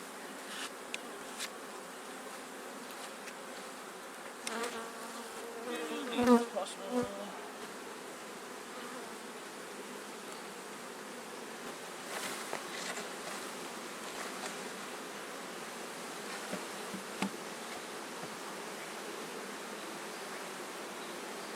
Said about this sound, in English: I'm just going to clean these bees off the edge and plop the new box on top.